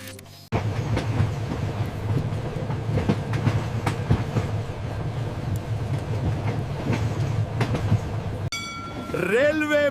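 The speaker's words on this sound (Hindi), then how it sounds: "The train is passing through a dark forest." Animated train rolling through a dark forest, a steady loud rumble with rhythmic clicking of wheels on rail joints, then a brief musical sweep near the end.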